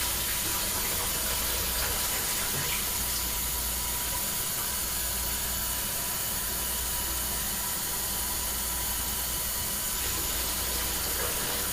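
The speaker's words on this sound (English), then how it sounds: "I'm just going to add a little bit of water to that" Warm water pours steadily into a pot of borscht stock, a continuous broad hissing rush that stays even and close throughout with no talking.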